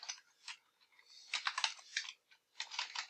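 Quick bursts of keystrokes on a computer keyboard while entering a spreadsheet formula, close and crisp in short clustered runs with brief pauses, no talking.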